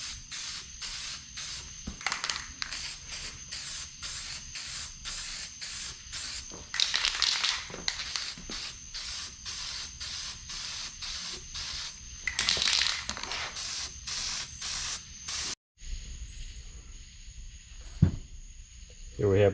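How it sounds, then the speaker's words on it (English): Silicone spray from an aerosol can coated onto exhaust heat wrap on a turbo Civic's hood-exit exhaust, a long series of short rhythmic hissing bursts with a few longer sprays, close up, ending in near quiet. "I'm going to go ahead and put a couple coats of this silicone spray on there."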